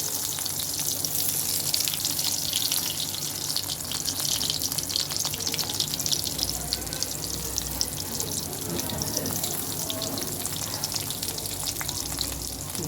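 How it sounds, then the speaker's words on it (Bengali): Eggplant slices fry in hot oil in a pan, a dense, continuous sizzle and crackle that stays loud and close throughout with no voices. "এক এক করে তেলের মধ্যে ছেড়ে দিচ্ছি বেগুনটা।"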